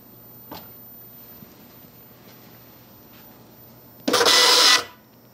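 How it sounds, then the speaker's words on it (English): A UGC-74B military communications terminal printer bursts into a loud, short mechanical chatter of printing after a quiet hum with faint clicks. "in the printer, it's just going to continuously go with the same message over and over"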